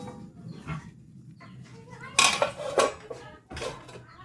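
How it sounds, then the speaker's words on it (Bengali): A metal lid clatters onto a pot of water set to boil, with several close clanks and scrapes of cookware while a voice speaks nearby. "এখন জলটা সিদ্ধ ফুটার জন্য ঢেকে দেব।"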